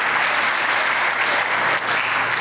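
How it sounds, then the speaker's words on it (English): Medical students in white coats at an investiture ceremony give a round of applause, a dense, loud, steady wash of clapping from a large audience with no speech. "Give yourself a round of applause"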